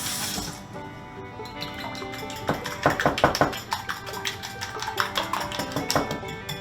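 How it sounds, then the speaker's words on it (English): Eggs being whisked in a bowl for a monster omelet grilled cheese sandwich, heard as a steady run of quick, close clinking taps of a utensil against the bowl, with no talk. "And then we're going to whisk our eggs together."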